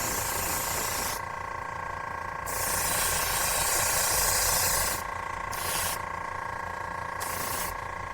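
An aerosol can sprays Lark Dark paint onto a prop piece in a workshop, giving close hissing bursts of about one to two seconds each, separated by short pauses, with no talk.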